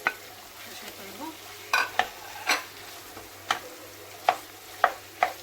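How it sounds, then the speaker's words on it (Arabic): Onion and chicken pieces fry together in a pan, a low steady sizzle broken by regular scraping stirs, about one every half-second to second, close and without talk. "شحرات البصله ندير معاها ريفات ديال الدجاج"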